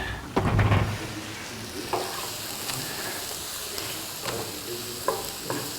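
Onions fry in a pan with a soft, steady sizzle, and a wooden spoon scrapes and taps against the pan a few times. There is no talking.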